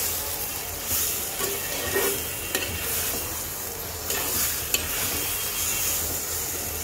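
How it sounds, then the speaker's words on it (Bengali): Vegetables and chopped tomato being sautéed in a pan for a Bengali bele fish curry, with a constant close sizzle punctuated by occasional stirring scrapes and taps. "টমেটোটা দেওয়ার পর 2-1 মিনিট একটু কষাবো।"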